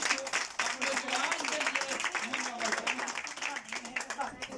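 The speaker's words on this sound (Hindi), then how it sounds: "अपने लिए तालियां बजाएं।" A church congregation claps for themselves, a fairly quiet patter of many hands keeping an uneven rhythm, with a voice talking over the clapping throughout.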